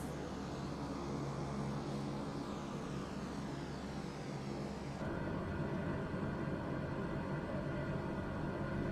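Steady, loud drone of a C-130's propeller engines in flight fills the cabin continuously, a dense unbroken roar with a slight shift in tone midway.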